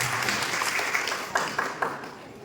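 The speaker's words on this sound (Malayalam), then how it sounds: "അപ്പോൾ കേരള നിറഞ്ഞ കൈയടി ഈ ഒരു അവസരത്തിൽ നമ്മളെ എല്ലാവരും കൊടുക്കണം." An audience breaks into a short round of applause, a dense patter of clapping hands with a few sharper claps standing out near the end.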